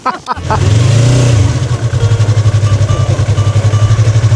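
A motorcycle engine revs loudly and close by after a few sharp clunks, settling into a pulsing, rhythmic idle-to-low throttle as the rider works the clutch and shifts into second gear.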